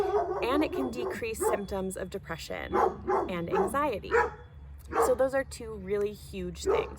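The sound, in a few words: dog barking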